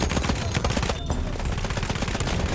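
Gunfire in the Battlefield 1 video game: sustained, loud rapid-fire bursts, machine-gun-like and dense, with a brief dip midway, no talking.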